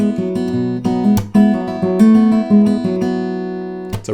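Fingerpicked guitar plays the main riff of a song at full speed, a quick flowing run of plucked notes and ringing bass over a few seconds, close and unaccompanied.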